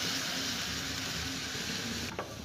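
Milk is poured into a hot pan of coconut for laccha semai laddu, raising a steady, dense sizzle that holds evenly throughout and dips briefly near the end.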